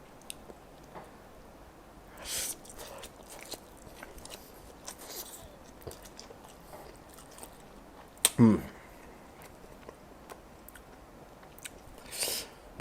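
Someone eats black bean fire noodles, with soft slurps and chews and a couple of louder crunchy bites standing out against a quiet room.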